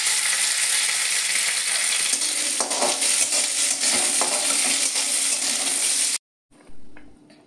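Cashews and raisins frying in ghee for payesh, a loud dense close sizzle with light stirring clinks that stops abruptly, followed by a short quieter tail.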